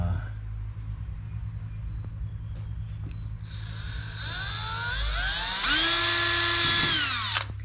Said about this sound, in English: let's go and start drilling some holes